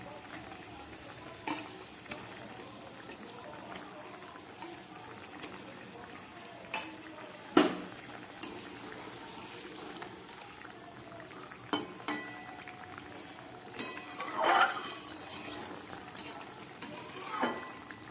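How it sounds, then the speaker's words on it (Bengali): Fried chana dal dhoka pieces and potatoes go into a pan of simmering gravy and are stirred. A quiet low bubbling and sizzle runs underneath, with intermittent spoon-against-pan clinks and scrapes. "এবারে দিয়ে দিচ্ছি ভেজে রাখা ছোলার ডাল আর আলু দিয়ে যে ধোকার পিসগুলো বানিয়েছি সেগুলো দিয়ে দিচ্ছি"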